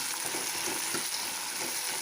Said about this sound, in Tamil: இப்போ இந்த சுண்டைக்காய் போடுறேன்.